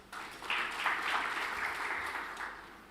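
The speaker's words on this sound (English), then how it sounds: "I think that deserves a round of applause." Moderate applause from a forum audience at a financial markets and economic outlook event, a soft continuous clatter of hands that rises quickly and holds, fairly distant in a large room.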